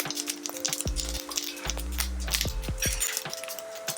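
Mustard seeds and cumin sizzle in hot oil, a close, crackling fry with scattered pops and metallic clinks from a utensil in the pan, under a faint background tone.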